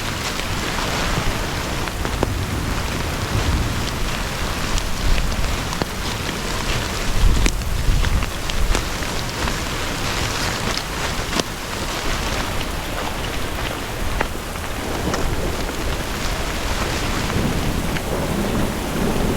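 Heavy rain pours steadily during a strong storm in wooded mountain country near an abandoned house, with repeated rumbles and cracks of thunder and gusting wind over the constant downpour.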